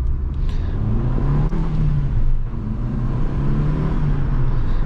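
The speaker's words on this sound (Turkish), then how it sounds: "Atmosferik motorun sesi biraz farklı oluyor biliyor musun?" A Fiat Egea 1.4 naturally aspirated petrol engine hums and revs steadily at close range, a continuous low rumble with slight rises in pitch throughout.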